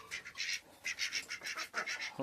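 Ducks quack in a busy flurry of overlapping calls, close and loud, with a few short bursts near the end, near turkeys.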